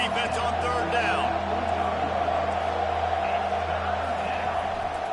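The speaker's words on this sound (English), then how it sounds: "Decibels rising as the crowd gets behind this defense on third down" Football stadium crowd roaring in a steady, sustained wall of noise for the defense on third down, with voices audible in the mix.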